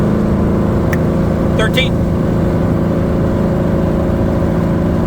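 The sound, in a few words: engine revving as throttle is applied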